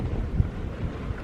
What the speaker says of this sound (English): trouble with the wind, it's so high, it just blew the tripod